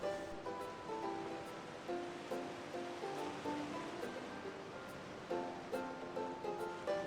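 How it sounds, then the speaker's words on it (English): Ocean surf washes steadily at a busy seaside trading port in the Pokemon XD video game, a continuous broad wash of waves under bright, repeating game music tones. "Wow, brother, look! Look! It's the sea!"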